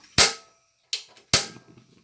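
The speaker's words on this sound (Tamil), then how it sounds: "இப்போ நம்ம ஸ்டவ் ஆன் பண்ணிக்குவோம்." Three sharp snapping clicks of a gas stove igniter, close and loud, with brief gaps between them.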